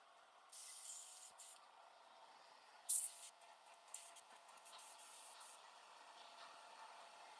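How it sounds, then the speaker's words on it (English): Short hissing bursts of silver spray paint come from an aerosol can, a few separate sprays with pauses between them, over a quiet steady background hum. "We're gonna spray some silver now."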